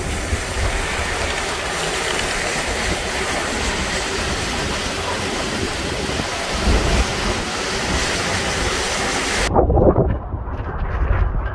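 Hurricane Ida's wind in Houma, Louisiana roars hard and continuously as a loud, broad rushing blast buffeting the microphone, swelling in gusts and briefly easing near the end, with no voices.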